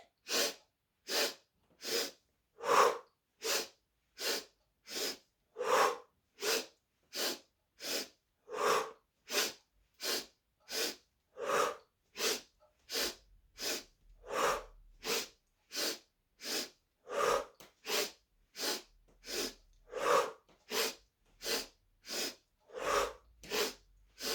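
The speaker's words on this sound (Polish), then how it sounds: "a teraz zaczynamy 20 takich oddechów" Around thirty forceful, rhythmic breaths at a steady pace of roughly one per second, close and sharp like snorting exhalations, repeated during a home breathing exercise for boosting immunity.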